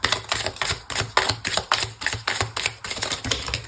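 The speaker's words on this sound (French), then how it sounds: "Allez, on va mettre encore quelques cartes." Playing cards being placed one after another onto a table during a card layout, giving a quick run of crisp, close taps and slaps in an irregular rhythm with no talking.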